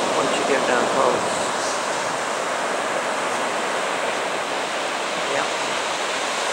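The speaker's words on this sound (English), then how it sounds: "waves are bigger than I thought once you get down close" Surf on the Oregon coast in December, heard up close, a continuous loud wash of breaking waves with no break in the roar.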